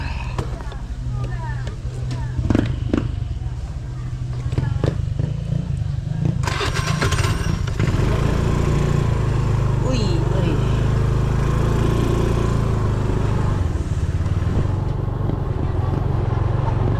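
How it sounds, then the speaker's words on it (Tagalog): Motorcycle engines rumble steadily nearby on soft sandy ground, the drone swelling partway through, while a voice calls out short exclamations over it. "Dahil ang daming motor."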